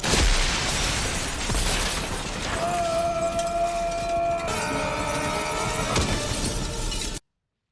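In a scene from the film The 6th Day, a building explodes with a loud sustained blast, followed by shattering debris and a long rumbling roar with tonal score underneath that cuts off abruptly.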